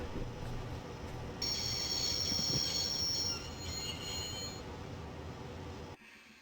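A train in the video game The Shadow of the Templars rumbles steadily with a high, sustained wheel squeal through the middle, then cuts off abruptly near the end; no voices.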